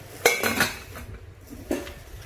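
A stainless steel cooking pot, 24 cm across, and its lid are handled, giving three or four clanking metal knocks and clinks at close range with no speech.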